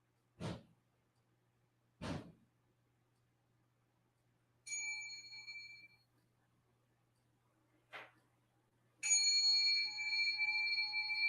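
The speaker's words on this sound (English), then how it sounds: "I got another bell. I want to try it out." A bell is struck several times, first two dull separate knocks, then a ringing strike with a sustained tone, another short knock, and a final loud ring that lingers and reverberates, each hit alone in quiet surroundings.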